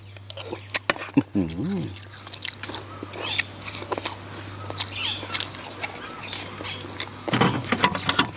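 Close, crunchy chewing of boiled cow-ear leaves in a bitter soup, with irregular crisp bites and mouth noises, a steady low hum underneath and a brief voice near the start.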